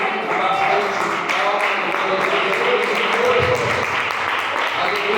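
Congregation clapping in a church service, a steady wash of many hands held at an even level for several seconds, with faint voices mixed underneath.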